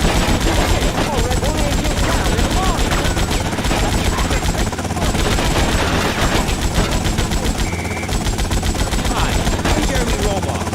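Gunfire in Grand Theft Auto Vice City, dense rapid automatic bursts rattling continuously and loudly for several seconds, with a voice speaking over the shooting.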